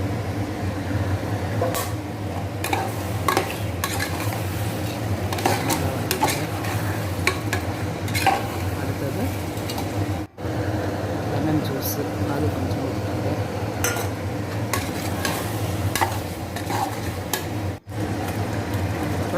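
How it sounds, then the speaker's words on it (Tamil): Biryani masala with salt is stirred and fried for a basmati biryani, giving a continuous close hiss with repeated spatula scrapes and taps against the pot, while a person talks throughout. "நல்லா வதக்கணும் ஒரு அஞ்சு நிமிஷம் வரைக்கும்"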